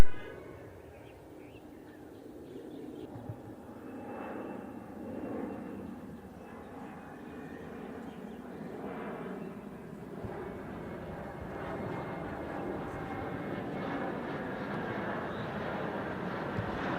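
Airliner engines on final approach to runway 14, a faint, steady distant drone with a gentle rise and swell across the whole stretch, no voices.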